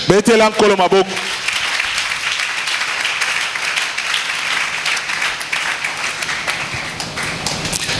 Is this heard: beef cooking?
no